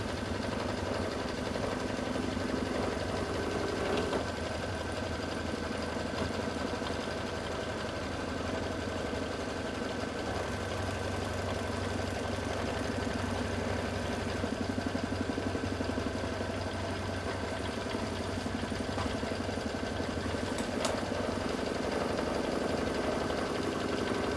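A sewing machine stitches a quilted mug rug. The motor runs in a steady, continuous hum and whir for the whole stretch, close by and moderately loud, with no voices over it.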